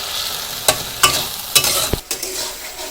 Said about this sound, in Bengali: মাছগুলো মশলার সাথে কষিয়ে নেই।